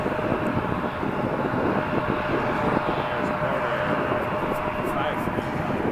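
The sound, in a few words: Porter Embraer 195-E2 aircraft departing Toronto Pearson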